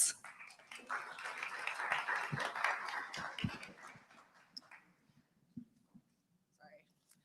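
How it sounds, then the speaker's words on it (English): Applause from a salon audience welcoming the panelists at a World Cup discussion event, a broad wash of clapping that swells for a few seconds and then thins out to scattered claps, heard alone without talk. "Please give a round of applause for our guests."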